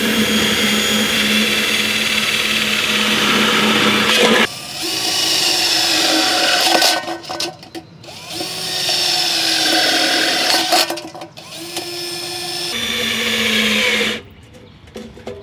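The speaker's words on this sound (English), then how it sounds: "Commence drilling holes into this." A battery drill whines loudly up close as it bores holes into a plastic shell, running in several long bursts separated by brief pauses.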